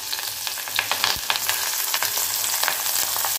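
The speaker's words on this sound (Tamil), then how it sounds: "சின்ன வெங்காயம் போட்டு 2 நிமிஷம் ஆனதையும் பூண்டு போடுறேன்." Small onions and garlic fry in hot oil, a continuous close sizzle with scattered pops and stirring clicks throughout.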